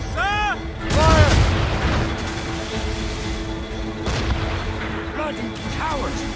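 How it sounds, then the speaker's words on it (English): Heavy ship cannons fire in a naval battle from a sailing-era video game: deep, loud booms strike twice several seconds apart over a rumbling sea-and-wind background, with brief shouted voices. "Ready to fire, sir! Fire!"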